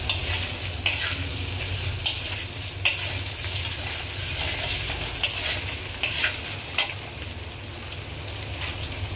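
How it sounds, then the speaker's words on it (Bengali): Potato pieces fry in a pan with a constant loud sizzle, broken every second or so by sharp scrapes and knocks as they are stirred. "এবার এটাকে বেশ ভালো করে ভাজা ভাজা করা হবে।"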